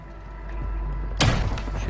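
Gunfire in the mobile shooter game Call of Duty Warzone Mobile, a sudden loud burst of shots erupting late in the clip over a steady low game rumble.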